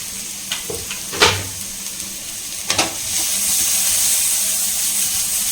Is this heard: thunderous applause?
no